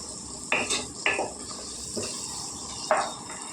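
Onions cooking in oil in a pan, with a few sharp metallic clanks of a spoon and lid against the pan over a soft background sizzle.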